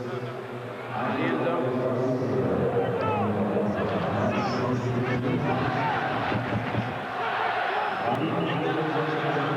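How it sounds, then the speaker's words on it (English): Stadium crowd at a 1996 World League of American Football game between the Frankfurt Galaxy and the Rhein Fire, a steady roar of noise filling the background throughout, with a brief dip near the end. "the Rhein Fire crowd, they made a lot of noise"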